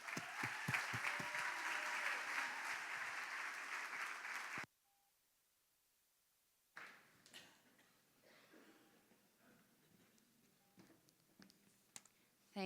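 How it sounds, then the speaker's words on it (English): Applause from a banquet audience fills the room for several seconds, then cuts off abruptly, followed by quiet room noise and faint scattered sounds. "So give me some applause for Kenz Ladd."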